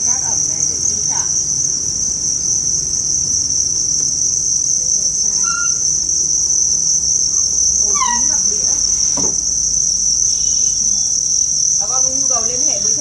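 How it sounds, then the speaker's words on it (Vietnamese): Crickets chirp steadily and loudly on a cricket farm where many breeding females climb onto trays of damp sand, a dense continuous trill with a few brief higher chirps rising over it. "rất là nhiều con dế mẹ tự trèo lên các cái khay cát ẩm này để sinh sản"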